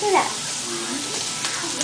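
Vegetables sizzle while sautéing in a pan over medium-high heat for tortilla soup, a steady soft frying hiss under a brief spoken remark.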